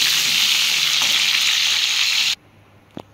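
Pumpkin pieces frying in hot oil give a loud, steady sizzle that cuts off abruptly after a couple of seconds, followed by a near-silent pause and one brief clatter.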